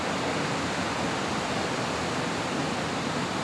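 Superior Falls, a waterfall, roars with a dense, steady rush of falling water, loud and unbroken throughout with no voices.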